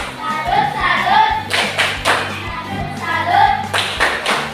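A school class claps hands together in a lively, rhythmic pattern, several loud sharp bursts of group clapping close by, mixed with voices chanting and calling out between the claps.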